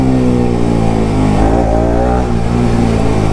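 A Bajaj Pulsar RS200 motorcycle with a newly installed spark plug revs loudly and continuously in first gear, the cold engine rising and falling in pitch with throttle blips, close and dominant without voices.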